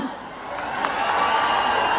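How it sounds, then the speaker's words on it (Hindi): Crowd at an outdoor stage show in Patna clapping and cheering, a dense steady wash of applause and shouts that swells slightly, heard from within the audience. "तो एक बार जोरदार तालियां"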